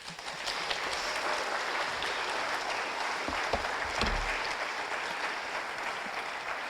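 An audience at a computer architecture conference award ceremony applauds the winner of the 2025 Eckert-Mauchly Award. The dense clapping is steady and sustained for several seconds, with a few sharper claps standing out.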